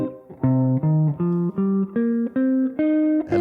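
An electric guitar plays a run of about eight clean, sustained single notes stepping gradually upward in pitch, each clearly separated, close and fairly loud with no talking.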